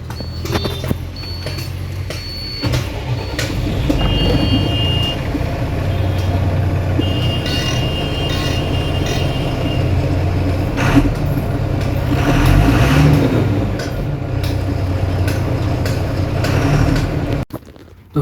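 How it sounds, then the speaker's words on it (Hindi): A Tata Signa BS4 truck, just back from a full wiring repair, runs with a steady low diesel rumble and a few short electronic beeps near the start, then stops abruptly. "तो हम मीटर बोर्ड को लगा के गाड़ी को स्टार्ट करके देखते हैं"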